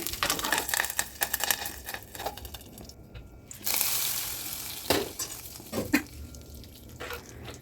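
Mustard seeds, curry leaves and dried red chillies spit and crackle in hot oil for tempering a Kerala pumpkin curry, a dense, continuous sizzle with sharp popping bursts throughout.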